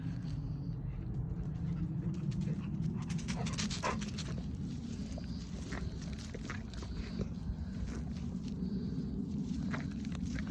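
A golden retriever whimpers softly while walking, its footsteps and light panting close by over a steady background rumble; no one speaks.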